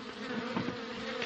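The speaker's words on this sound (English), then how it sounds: "now, he had over 100 hives of bees" Steady, soft buzzing of many bees, a continuous droning hum with no other sounds.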